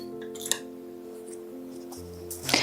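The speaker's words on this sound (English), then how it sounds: "just with the scissors, any that you know are sharp enough, I cut the hole." Sharp scissors cut a hole in fabric while a corset is being made: a few crisp snips and small clicks, close by, over a steady low electrical hum.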